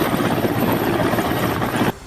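Air force rescue helicopter working over flooded Fatehpur and Indora in Himachal Pradesh, a loud, steady rotor and engine roar that holds evenly for about two seconds before cutting off abruptly.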